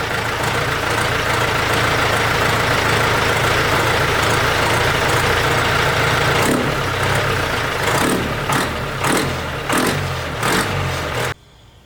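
A Ford 172 diesel tractor engine runs steadily at a loud, close idle with a rough, constant rumble, and a few brief knocks or clunks come near the end before the sound cuts off.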